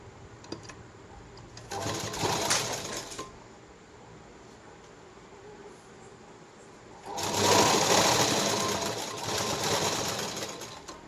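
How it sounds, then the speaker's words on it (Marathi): Sewing machine stitching a puffed sleeve: two bursts of rapid whirring, a short run followed by a longer, louder stretch of steady stitching, close up with quiet pauses between. "एक सारखी शिलाई पूर्ण मारून घ्या अशा पद्धतीने ही पूर्ण शिलाई आपली मारून झाली"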